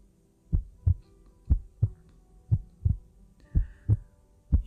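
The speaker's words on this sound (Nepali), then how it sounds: "यो तपाईँहरूको आफ्नै मुटु धड्किएको आवाज हो" Heartbeat sound effect from a horror story: steady paired thumps, deep and close, repeating about every second with a faint low hum beneath and no voices.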